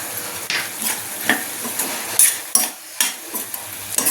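Freshly pounded ginger garlic paste is stirred into a frying onion curry, with a spoon scraping the pan in repeated close strokes over a soft, constant sizzle.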